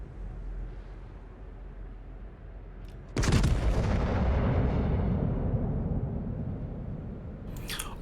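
Richelieu battleship main guns firing in World of Warships: a sudden loud, deep booming salvo that rolls on with a long rumbling tail over low ambient noise, followed by a faint sharp crack near the end.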